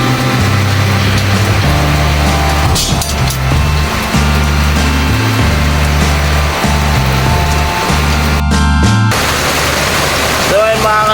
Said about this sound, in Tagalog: Mga kalupit, ang lakas ng ulan.